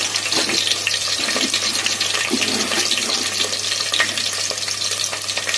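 Onions and dried red chillies fry in three tablespoons of hot oil for sambar, a steady crackling sizzle with scattered pops, close and continuous with no talk.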